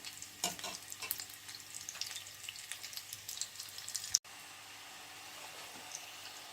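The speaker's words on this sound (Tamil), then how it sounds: "மீடியம் ஃப்ளேம்லேயே இதை வச்சு பொரியுங்கோ" Veg cutlets frying in oil over a medium flame, a steady crackling sizzle with scattered pops and spits, close and continuous, briefly cut off and then resuming more softly.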